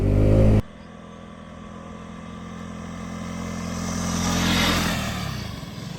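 A KTM RC 200 motorcycle ridden on a road in Nepal, its engine droning steadily close by after a brief loud burst at the start, swelling a little as it accelerates and then easing off.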